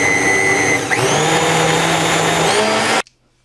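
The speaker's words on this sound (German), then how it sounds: "das Ganze muss jetzt bloß noch püriert werden. So, ich nehme jetzt dafür meinen Omniblend." An Omniblend blender purees homemade vegan chili sauce, a loud close motor whine that shifts pitch as it runs for about three seconds, then cuts off abruptly into silence.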